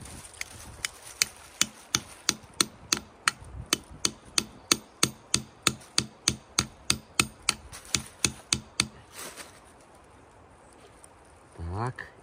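A hammer drives a tap into a maple tree to start sap collection, about twenty sharp, evenly spaced knocks in a steady rhythm, close and clear, followed by a brief quiet and a short rustle.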